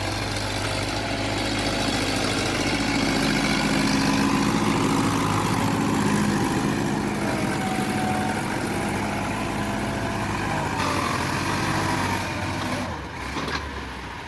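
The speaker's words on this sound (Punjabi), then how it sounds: "ਬਾਕੀ ਹੁਣ ਟਰੈਕਟਰ ਆ ਚੱਲਾ ਇੱਥੇ" An ATS 290 tractor with an 82 hp diesel engine runs steadily on farmland, a continuous loud mid-to-low rumble that holds even and then dips slightly at the end, with no voices.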